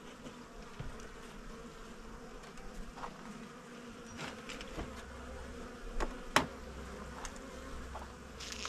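Honeybees hum in a low, steady drone while a beekeeper shakes them off a hive frame, with faint knocks and one sharp clack standing out against the buzzing.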